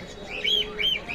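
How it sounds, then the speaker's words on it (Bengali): A single pigeon at a busy pigeon market giving a short warbling call, close, over a steady murmur of background noise. "এটা খুব সুন্দর একটা কবুতর"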